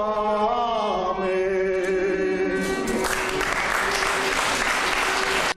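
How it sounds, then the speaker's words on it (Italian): A large audience packing the old church of Gragnanella bursts into applause after sustained tonal music fades, the clapping rising dense and echoing over the final seconds. "Tanti applausi e apprezzamenti dal numerosissimo pubblico che ha riempito totalmente l'antica chiesa di Gragnanella."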